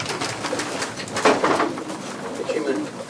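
Pigeons coo softly while eating in a loft, with faint feeding rustles and a voice speaking over them.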